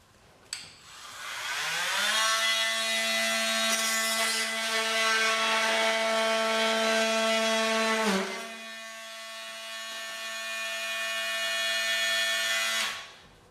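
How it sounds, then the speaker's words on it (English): Power tool nibbling away the bottom of wood molding during a house renovation, a loud steady high-pitched whine that ramps up, holds, dips briefly and resumes before cutting off, close and alone. "so I can nibble away all the bottom of the molding, so I can slip the vinyl under there"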